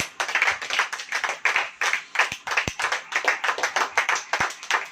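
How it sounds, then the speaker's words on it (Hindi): A church congregation claps loudly and in rhythm during a Hindi worship service, a dense run of sharp, steady hand claps for several seconds with no talk. "आइए हम कस के ताली बजाएंगे।"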